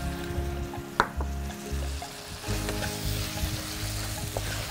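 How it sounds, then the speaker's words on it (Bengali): Poppy seeds drop into a hot pan with a sharp sizzle, then a steady frying crackle runs on with a few stirring clicks, close by and with no speech. "আমরা পোস্ত দিয়ে দিব।"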